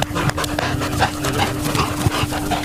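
A dog at an outdoor dog park in Alberta, panting and whimpering close to the microphone in quick, uneven bursts, with a few sharper vocal yelps mixed in and no talk.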